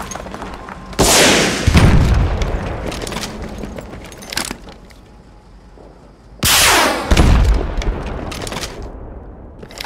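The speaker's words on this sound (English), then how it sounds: "Damage it with the RPG." Two loud RPG launches and blasts in the Battlefield Mobile video game, fired at a T-90 tank, each a sharp whoosh into a booming explosion about five seconds apart, with scattered gunfire and rumble between.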